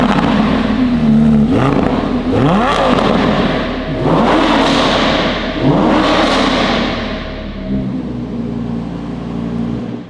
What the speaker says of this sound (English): The car sounds better than ever.